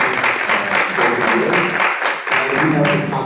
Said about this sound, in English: let's give one more round of applause to Chen Chen.